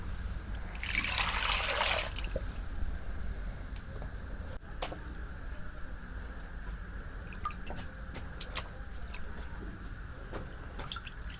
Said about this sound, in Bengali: ব্রয়লারের মাংস আমি 3-4 ধোয়া ভালো করে দিব